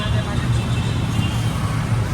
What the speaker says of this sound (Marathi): पण इथं भरपूर ट्रॅफिक आहे बरं का.